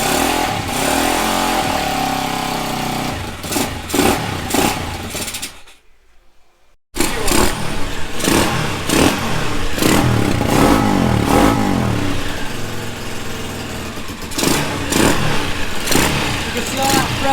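A cheap dirt bike engine is revved up and sputters out, loud raspy bursts with a short silent gap as it dies, then it restarts and revs again in uneven surges, while someone talks over it.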